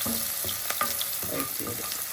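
Garlic and green chilies sizzling in hot oil for methi leaf thoran, a steady close frying hiss with a few stirring clinks and scrapes of the pan.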